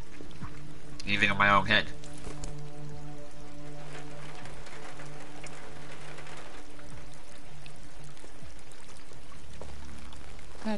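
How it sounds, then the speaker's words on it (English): Steady rain in Detroit: Become Human pours throughout, with a short louder splash early on, while voices talk over it. "It's raining"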